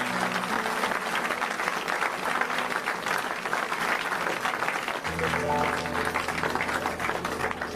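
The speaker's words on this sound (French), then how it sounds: "Au nom de Yeshua, on acclame le Seigneur de gloire." A church congregation claps and cheers in sustained applause throughout, dense and fairly loud, with voices and a low organ-like tone joining in toward the end.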